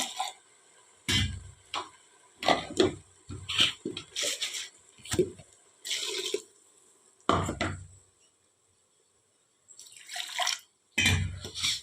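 Water poured from a vessel into ground masala for dill leaf pulao, a run of short splashing pours and drips broken by pauses and one near-silent gap, close and moderately loud with no talking.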